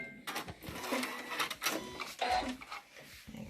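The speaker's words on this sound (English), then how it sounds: "just do a back stitch at the beginning and the end of that one" A domestic sewing machine stitching fabric for the side pockets of NHS scrub trousers, back-stitching at the start and end of the seam, in a rapid, uneven mechanical rattle that speeds up and pauses at close range.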